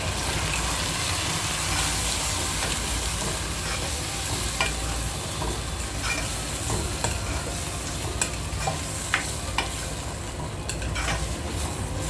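Onions and tomatoes frying in a pan for Telangana-style mutton curry, a constant loud sizzle with occasional clinks and scrapes of stirring, no voices.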